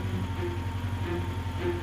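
A tractor engine in a cartoon rumbles with a low, steady throb and faint pulsing overtones, a continuous near drone with no speech.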